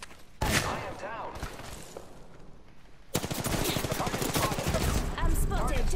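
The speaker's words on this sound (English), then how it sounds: "I'm spotted. Taking fire." Rapid automatic gunfire in the battle royale video game Apex Legends, loud bursts cutting in sharply, a short exchange followed by a longer sustained volley of rattling shots layered over game effects.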